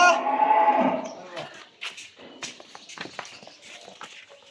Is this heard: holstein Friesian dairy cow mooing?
yes